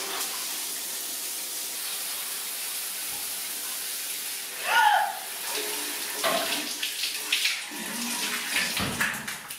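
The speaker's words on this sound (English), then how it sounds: "what you're gonna wanna do with your hair is get it nice and wet" Water running steadily from a tap as hair is wetted, a constant rushing spray with splashes and shifting gurgles where the flow hits hair, close and loud throughout.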